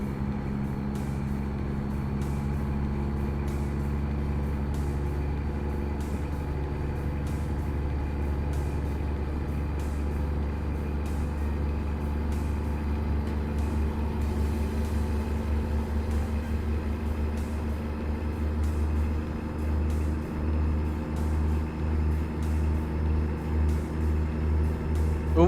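A Peterbilt truck with a 625-horsepower Cummins engine and 18-speed transmission drones steadily and loudly in American Truck Simulator, a constant low engine rumble with no break.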